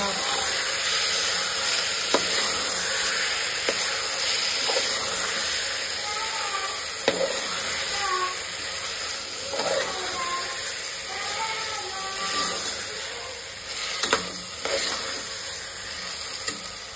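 Marinated chicken for biryani is stirred and mixed in a pot over a steady sizzling hiss, punctuated by occasional sharp clicks of a utensil against the pot.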